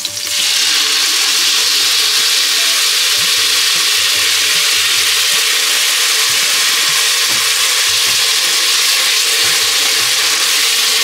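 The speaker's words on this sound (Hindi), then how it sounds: "मैं जा के फ्राई कर लेती हूँ चोखा।" Chokha fries in a hot pan with a loud, dense, continuous sizzle that stays even from start to finish, close by and without any talking.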